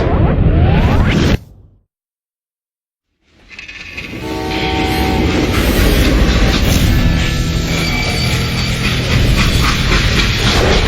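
A train runs on rails in the video game Call of Juarez Gunslinger, a loud continuous rolling clatter with a horn-like tone that returns strongly after a short silent gap.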